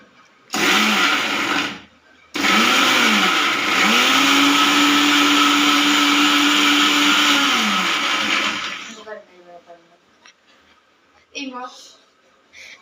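A kitchen mixer grinder with its small jar lidded runs loud and steady, a motor whine with short start bursts, then one long continuous run of several seconds before spinning down, followed by faint handling clatter.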